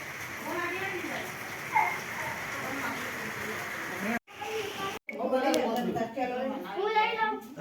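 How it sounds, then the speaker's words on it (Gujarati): Steady rain patters on surfaces around a village home, a constant close hiss that continues under a person talking throughout, briefly cut off twice before resuming. "બરોબર વરસાદ ચાલુ છે તમે જોઈ શકો છો"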